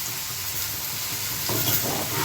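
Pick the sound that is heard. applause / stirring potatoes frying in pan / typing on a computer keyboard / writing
stirring potatoes frying in pan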